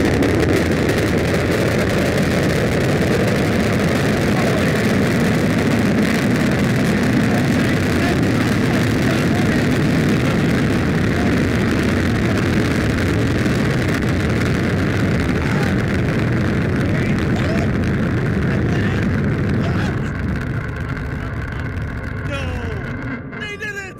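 SpaceX Super Heavy booster engines roar after ignition during a Starship flight, a loud broadband rumble sustained for about twenty seconds before easing, with excited voices talking over it.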